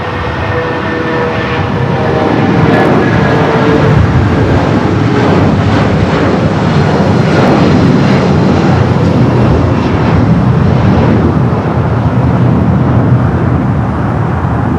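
A United Boeing 777 in Star Alliance livery takes off from runway 25 right at LAX, bound for Newark, its jet engines building to a loud, sustained broadband roar that holds steady throughout.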